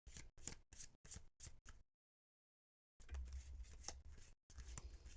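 Lenormand cards are overhand shuffled by hand in quick, rhythmic bursts of papery riffling, close up, with a short pause before more shuffling.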